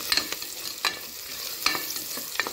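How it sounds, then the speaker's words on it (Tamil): Onions and whole green chillies sautéing in a pan, with a few sharp spatula scrapes at a slow, regular pace over a soft, steady sizzle, close by. "இப்போ வெங்காயம் நல்லா வதங்கிக்கட்டும்"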